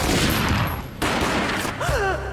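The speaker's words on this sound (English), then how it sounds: "A gunshot boomed and she fell down in slow motion." Gunfire rings out in the video game Max Payne, a loud close burst of shots with a sharp cut partway through, followed by a woman's short cry.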